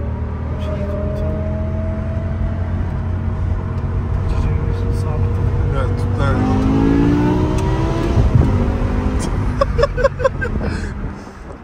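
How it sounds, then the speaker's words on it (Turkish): A BMW M4 G82 with an SMG-style transmission rumbles and revs, a deep steady engine drone rising and falling in pitch over about eleven seconds, with people talking over it nearby. "Çok keyifli ya ses arabanın"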